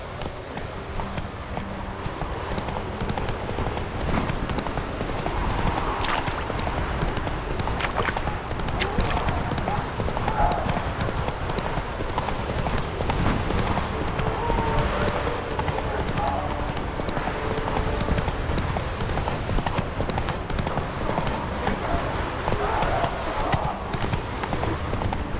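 Roach the horse gallops in The Witcher 3, a steady rapid clip-clop of hooves running continuously with occasional whinnies, while a voice talks over the action.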